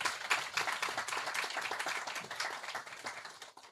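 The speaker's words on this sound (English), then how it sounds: "I think we deserve a clap for ourselves" Audience clapping at a Ghanaian anaesthesiologists' society anniversary launch, a steady patter of many hands at moderate distance, fairly faint, continuing evenly with no talk over it.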